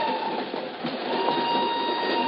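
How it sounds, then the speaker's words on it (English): A northbound train rolls out of Lisbon as a radio-drama effect: a continuous, even rumble of wheels and carriage noise with a faint steady hum, unbroken and fairly loud throughout. "she's aboard a northbound train rolling out of Lisbon"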